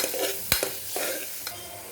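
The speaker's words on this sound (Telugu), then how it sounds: "ఇప్పుడు జింజర్ గార్లిక్ పేస్ట్ యాడ్ చేస్తాను" Ginger garlic paste sizzles in a pan for chicken curry, a close, steady frying hiss broken by a sharp spatula knock and a few lighter scraping strokes.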